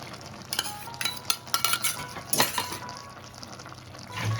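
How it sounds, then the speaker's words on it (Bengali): A spatula stirs fried eggplant and milk into lau shak greens cooking in a pan, giving close scraping strokes and soft wet sizzling in an irregular rhythm, with no talking. "দেখুন ভাজা বেগুনটা দিয়ে দিচ্ছি, একটু নাড়াচাড়া করে দেবো।"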